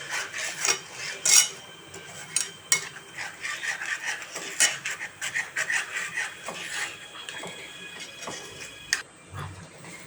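Moong dal halwa stirred in a pan, a spoon scraping and rubbing against the metal in quick irregular strokes with light clinks, close but soft.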